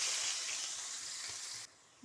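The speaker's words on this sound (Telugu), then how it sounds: "తాలింపు వేగింది, ఆనియన్స్ పచ్చిమిర్చి వేసేస్తాను." Chopped onions and green chillies sizzle in oil in a pan over tempered lentil seeds, a quiet, steady hiss close by that abruptly drops away near the end.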